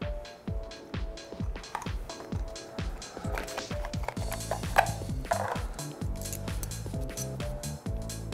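A ratchet wrench torquing down a bolt on a JMOD install, its pawl clicking in steady rapid bursts, close and fairly loud, with brief pauses between strokes and no talk.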